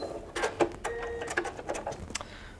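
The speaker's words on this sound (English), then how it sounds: "you can just kind of give it a little bit of a back stitch just to hold that in place" A sewing machine back-stitching Christmas stocking fabric, with short mechanical bursts of stitching, brief pauses between them and small clicks, heard close up.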